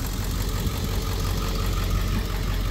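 Ford Excursion with a 7.3 diesel idling, a loud, close, steady low rumble with a faint knocking clatter, running continuously with no voices.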